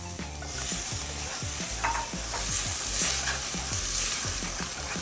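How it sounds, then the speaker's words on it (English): A clove of garlic fries in a pan alongside salmon bites, a dense steady sizzle with quick repeated stirring clicks close by. "So now we're gonna add our garlic."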